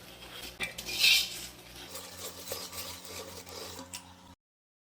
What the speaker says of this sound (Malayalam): ഞാൻ വിസ്ക് ഉപയോഗിച്ച് ഇളക്കുന്നത് കേട്ടോ.